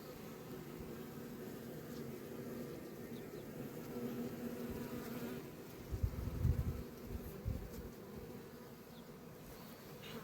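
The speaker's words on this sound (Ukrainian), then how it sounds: "Одна бджола залетіла мені в маску." Honeybees drone continuously around beehives, a soft steady buzz up close with brief rustling and a louder low thump midway.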